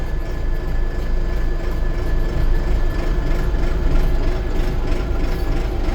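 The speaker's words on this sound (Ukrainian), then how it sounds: "давайте поставимо першу передачу і здамо трактор назад" A 2025 SCOUT 504C tractor engine runs steadily while the tractor reverses in first gear, a loud continuous low diesel rumble with a constant drone and no talking.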